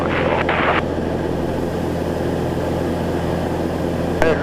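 Small airplane engine drones steadily inside the cabin during takeoff, a constant loud hum with brief radio or cockpit noise near the start and end.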